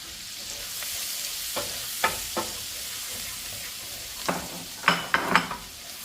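Onion and garlic frying in a pan for vegetable fried rice, a steady hissing sizzle with several sharp scrapes and clinks of a utensil against the pan, growing busier toward the end.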